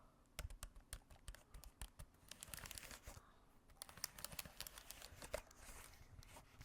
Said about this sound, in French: je vais faire un petit peu de tapping sur le clavier et du bruit de touche sur le clavier